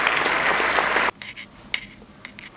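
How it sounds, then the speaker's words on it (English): A crowd's applause fills the first second, dense and fairly loud, then cuts off abruptly, leaving a quiet room with a few faint clinks and small knocks. "Give yourselves a big round of applause again."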